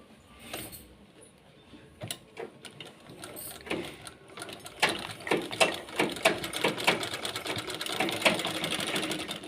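A sewing machine stitches a fabric lunch bag in a close, steady run of needle clatter. It starts with a few short bursts and builds into a continuous, louder whirr toward the end.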